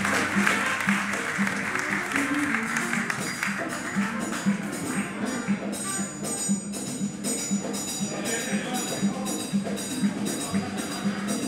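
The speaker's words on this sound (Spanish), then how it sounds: "Un aplauso para ese anime, loco." An audience applauds at a live stage show by a band, a dense, steady wash of clapping that runs throughout over faint tonal background sound.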